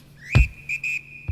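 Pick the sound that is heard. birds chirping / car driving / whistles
whistles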